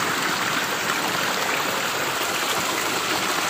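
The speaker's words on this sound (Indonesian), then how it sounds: "Tuh, ada air pancuran sana sahabat ya." Water pours from a spout near rice paddies in a village, a loud, steady splashing rush that continues without a break.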